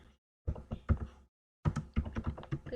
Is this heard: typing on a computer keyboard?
yes